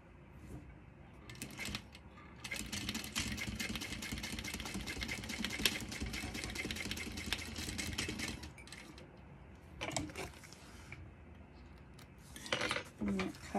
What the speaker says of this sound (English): I'm going to give that a sew here. And a top stitch.